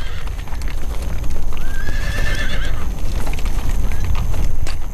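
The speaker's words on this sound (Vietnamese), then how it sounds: "những người du mục bận rộn chăn ngựa." Herded horses on Central Asian nomad grassland neigh loudly and close, with a long whinny over steady clip-clopping hooves; no talking.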